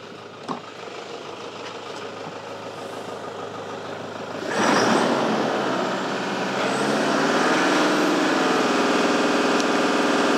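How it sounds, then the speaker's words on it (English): A car engine idles for a few seconds and then is revved, its low drone jumping abruptly louder before settling into a raised, steady hum. The engine is close by and no one speaks. "Let's rev this engine and see what happens."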